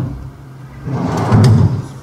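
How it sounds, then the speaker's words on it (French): A drawer on a solid teak 1950s-style sideboard slid along its runners, a close rising wooden rumble ending in a soft knock, nearby and fairly loud. "Sur le pan droit, vous retrouverez trois tiroirs,"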